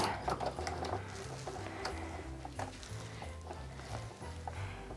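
A sewing machine stitches a quarter-inch seam on a Christmas stocking, a steady rapid mechanical whir with small clicks, fairly quiet and close, with no talking.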